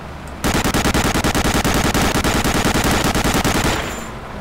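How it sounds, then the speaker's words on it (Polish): Sustained automatic machine gun fire from Medal of Honor: Allied Assault, a rapid, loud, steady burst of repeated shots lasting several seconds with no talk over it. "Słyszę, ktoś do nas strzela."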